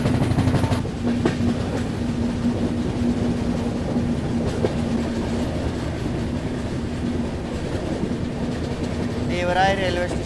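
Passenger train running along wet tracks on a curve through the rainy Western Ghats near Dev Rai station, a steady continuous rumble with faint clickety-clack throughout and a brief wheel squeal near the end; a voice is briefly heard.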